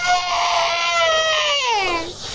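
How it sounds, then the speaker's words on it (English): A young child screams and cries at a window, one loud, continuous wail that holds steady and then slides downward in pitch near the end. "he sees the baby at the window screaming out the window"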